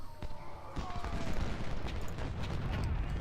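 Musket gunfire from Civil War infantry in Ultimate General: Civil War crackles as a dense, distant fusillade of overlapping pops and rumbles, continuous and faint amid battlefield noise.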